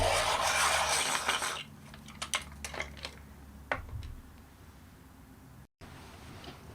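Warm grey coloured pencil being given a quick sharpen, a close, dry rasping grind for about a second and a half, followed by scattered small ticks and taps and one sharper scrape, then quiet.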